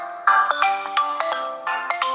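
A melodic ringtone plays from the single speaker of a Xiaomi Redmi 3 Pro phone, a quick sequence of bright electronic notes at close range with no voices.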